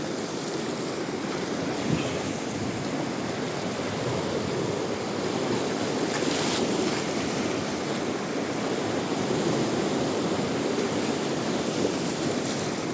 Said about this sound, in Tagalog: yung dagat niya malikot